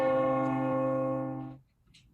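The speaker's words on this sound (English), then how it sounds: "The bell invites me." A single church bell strikes once during a Macbeth stage performance, a clear, resonant toll that hangs and slowly decays over about a second and a half before fading to near silence.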